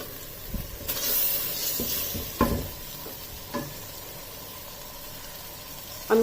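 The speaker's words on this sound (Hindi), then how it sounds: "Tomato ketchup 4 tablespoon. मिक्स कर लेना है इन सारी चीजों को।" A spoon stirring pasta sauce with tomato ketchup in a hot pan, faint sizzling under a few distinct scrapes and knocks against the pan, close by, with no voices.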